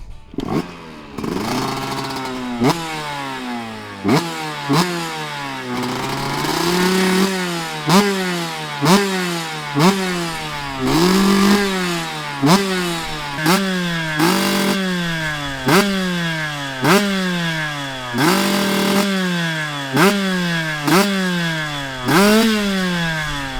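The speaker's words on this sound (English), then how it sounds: "So both bikes sound absolutely sick" A KTM 125SX and a Yamaha YZ125, both two-stroke motocross bikes, rev again and again, each loud close blip rising sharply to a ringing, buzzy peak and falling back to a rattly idle in a steady repeating rhythm.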